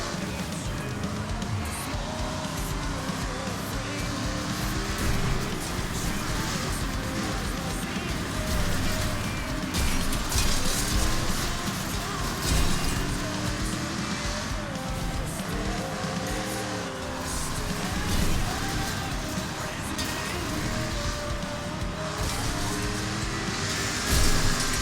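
Cars roar and grind through a Wreckfest demolition race, engines snarling continuously with scraping and tyre squeal as vehicles ram rivals, loud and dense throughout.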